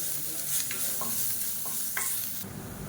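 Crushed garlic cloves fry in oil in a pan for a crisp finish, with a steady close sizzle broken by a few sharp scraping stirs, heard alone.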